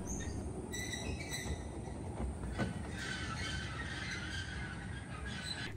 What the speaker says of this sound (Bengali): ট্রেনে এত বেশি শব্দ হচ্ছিল যে শব্দের কারণে রাইডের যে মজা সেটাই কিন্তু পাওয়া যায়নি